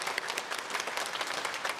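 Church congregation at a Korean Sunday service claps together in blessing, a brief, dense and steady round of applause with no voices over it.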